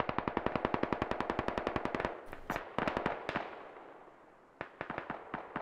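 Automatic rifle fire in the military shooter Squad during a bridge assault: a long, steady run of rapid rounds, then scattered shorter bursts after a brief lull, moderately distant.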